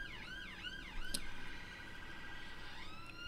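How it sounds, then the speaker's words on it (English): A faint police siren in the background, wailing up and down in repeated sweeps across the stretch, distant and quiet beneath a steady indoor hum. "apologies if you can hear the siren in the background"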